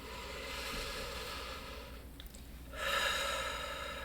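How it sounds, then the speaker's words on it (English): Slow, deep grounding breaths during a calm morning session: a long, soft, airy inhale, a brief pause, then a fuller exhale, close and quiet with no talking. "Take a couple grounding deep breaths."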